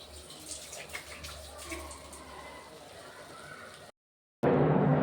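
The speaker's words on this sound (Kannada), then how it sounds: "ಇದಕ್ಕೆ ಇವಾಗ ನೀರು ಆ್ಯಡ್ ಮಾಡ್ತಾ ಇದ್ದೀನಿ" Water pours from a glass into uncooked rice in a home kitchen, a soft steady splashing trickle that stops abruptly before a louder rush of sound.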